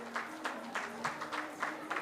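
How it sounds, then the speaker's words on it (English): Audience at a Rotary Club installation ceremony in Dharwad clapping in a faint, thin round of applause, with soft clustered bursts of hand claps repeating every few tenths of a second over a quiet room. "a big round of Rotarian applause"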